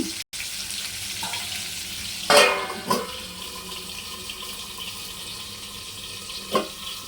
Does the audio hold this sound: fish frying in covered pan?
yes